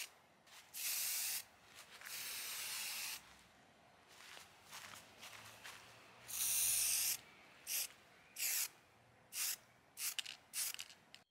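Aerosol spray paint applied to the perimeter of a BMW E39 5 Series taillight lens, heard as close hissing bursts, some long and some short, separated by quiet pauses.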